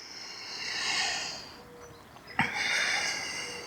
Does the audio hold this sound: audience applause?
no